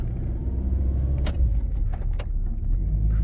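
A car converted to hand controls accelerates through a tight turn. A low, steady road and engine rumble runs throughout, close by, with keys jangling briefly in the cabin.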